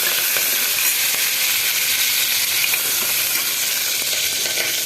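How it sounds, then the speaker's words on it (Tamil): Onions frying in a pan for a South Indian lunch, a steady, close, loud sizzle with bubbling hiss throughout and no pauses. "இப்போ கொஞ்சம் வெங்காயம், இது கொஞ்சம் நல்லா ஃப்ரை ஆன பிறகு தக்காளி போட்டுக்கலாம் நம்ம"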